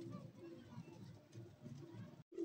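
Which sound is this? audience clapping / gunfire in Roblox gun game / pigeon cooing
pigeon cooing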